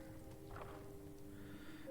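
Hooves of a goat in Skyrim tap softly in a short cluster of clip-clop steps, faint and close, over a steady low ambient drone.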